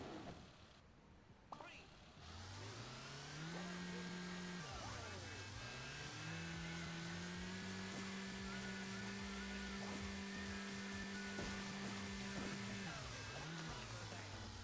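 Hill Climber car from Hill Climb Racing 2 drives with a steady engine drone that climbs and dips in pitch as it revs, holding a sustained tone through most of the stretch after a short quiet start.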